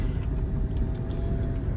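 A steady low engine and road rumble comes from inside a Dodge Charger R/T while it drives, continuous and fairly loud with no voices.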